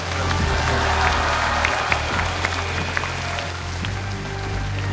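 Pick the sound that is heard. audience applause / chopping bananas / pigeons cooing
audience applause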